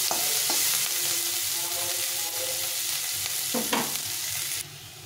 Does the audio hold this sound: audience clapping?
no